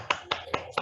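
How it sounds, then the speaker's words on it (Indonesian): A class in a school peer-teaching session claps in unison, four crisp, evenly spaced claps in quick succession with no talk between them. "tepuk tangan buat kita Jaya"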